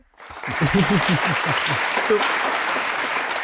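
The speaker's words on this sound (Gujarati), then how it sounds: "તાળીઓ" A studio audience breaks into sustained applause, dense clapping that swells quickly and holds steady at close range, while a voice speaks briefly over it at the start.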